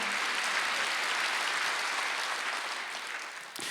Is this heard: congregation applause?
yes